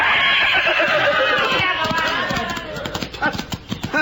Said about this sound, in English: A horse, and he scared them off.